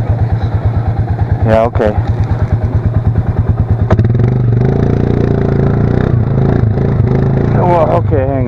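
A motorcycle stuck in terrain has its throttle worked, the engine revving hard with a steady pulsing drone and rising whines, loud and close, while people talk briefly over it.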